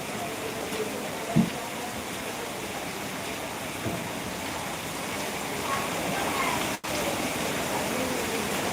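Heavy rain driven by wind in Suryapet, a steady broadband roar of downpour and gusts that holds evenly throughout, with a brief sharp knock early on and a short dip near the end.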